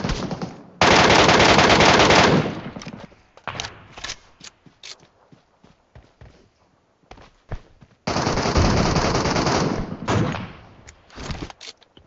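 Automatic gunfire in the PUBG Mobile Metro Royale game, two long loud sustained bursts of rapid shots separated by scattered single shots and clatter, close and dominant.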